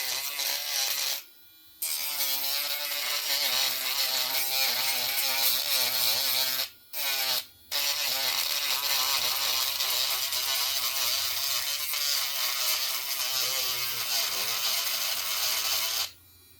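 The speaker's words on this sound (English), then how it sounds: "I put a pretty rough sandpaper spinner on there just because this one is really roughed up" A rotary tool fitted with a rough sandpaper spinner sands a UV resin name badge, giving a steady, close high-pitched whirring buzz that runs almost continuously, broken by a few brief pauses.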